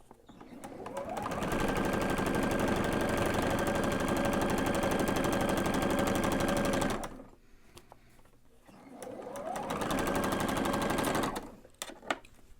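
A sewing machine runs in two bursts of rapid, steady stitching while quilt blocks are sewn, stopping briefly in between, close and clear.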